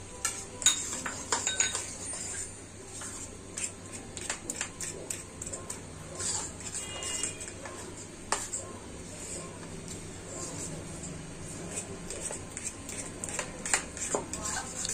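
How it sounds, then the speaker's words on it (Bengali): Besan (gram flour) batter for cauliflower pakora being whisked in a bowl, giving light repeated clinks and scrapes of utensil against the bowl at close range over a steady low background hum. "এরকম ভাবে ফেটিয়ে বিটারটা তৈরি করতে হবে।"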